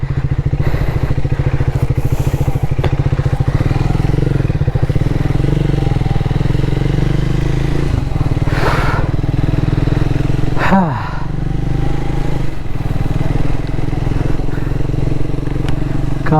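A Triumph Speed 400 motorcycle rides off-road, its engine thumping loud and close with a steady throbbing idle-to-low-rev rumble, brief revs and clattering, while a person speaks over it.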